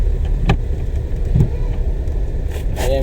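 A car engine rumbles close by as the driver eases on the accelerator after shifting into second gear, with a couple of soft knocks from the controls in between.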